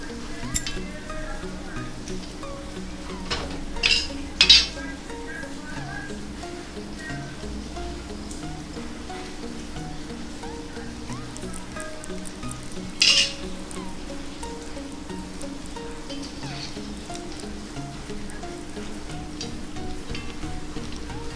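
A snack frying in a pan with a steady soft sizzle and bubbling, broken by a few sharp metallic clinks and scrapes as it is flipped over, a voice faintly present.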